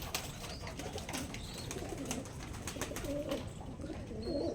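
Pigeons kept in a sheltered spot coo softly in overlapping low calls, fairly distant, over a steady background hiss and occasional faint chirps.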